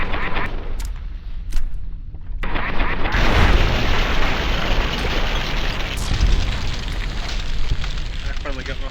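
A loud, close explosion in the game Fallout: New Vegas booms out and rolls into a sustained roaring, crackling blast that stays heavy for several seconds.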